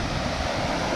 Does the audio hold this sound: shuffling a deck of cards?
no